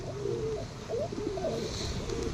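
Pigeons kept for sale give soft, low, rolling coos in a short close burst, with no talk.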